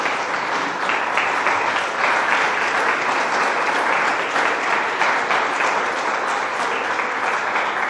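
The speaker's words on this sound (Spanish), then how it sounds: "Dar un aplauso al Señor." A church congregation applauds, a dense, steady wash of many hands clapping that stays at an even, full level throughout.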